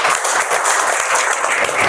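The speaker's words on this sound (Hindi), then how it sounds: "तो मैम के लिए भी एक जोरदार ताली हो जाए।" A seminar audience breaks into loud, sustained applause, dense overlapping clapping from many hands filling the room at a steady level throughout.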